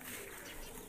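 Racer pigeons cooing softly, a low continuous murmur under steady broadband background noise throughout.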